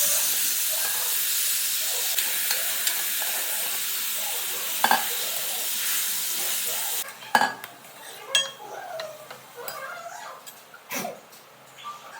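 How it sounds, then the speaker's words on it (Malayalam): Beef sautéed with fennel seeds and coconut pieces in a pan for a simple beef roast, with a steady loud sizzle and hiss, then clattering stirring strokes against the pan in the second half. "ഇനി നമുക്കിത്തിരി പെരിഞ്ജീരകവും തേങ്ങാക്കൊത്തും ഇട്ടിട്ട് നന്നായിട്ട് വഴറ്റിയെടുക്കാം."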